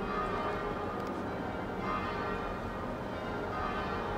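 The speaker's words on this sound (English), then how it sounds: "Hear them coming down, the chiming now." Ten church bells ring in a change-ringing peal, a steady wash of overlapping chimes heard faintly and from a distance, continuous throughout with no talking.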